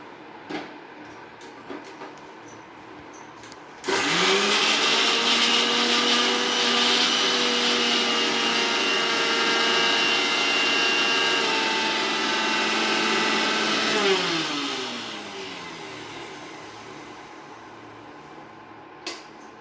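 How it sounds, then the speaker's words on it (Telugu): A kitchen mixer grinder blends chilli powder, salt and ginger, starting abruptly with a loud whirring motor whine that holds steady for about ten seconds, then winds down and stops, with quiet room tone before and after. "మిక్సీ పెట్టుకొని వచ్చేస్తానండి."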